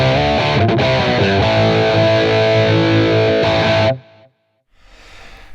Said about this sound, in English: my main distorted tone